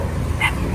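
A single short yip from a dog, one of several at a house, sounds close and sharp in a brief burst against a steady low background.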